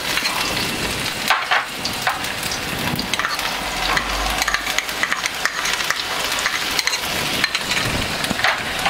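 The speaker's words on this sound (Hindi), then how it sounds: "इसे थोड़ी देर अच्छे से फ्राई होने दें।" Finely chopped garlic and ginger frying in oil in a kadai, a loud crackling sizzle with sharp spattering pops and the scrape of stirring throughout, no voices.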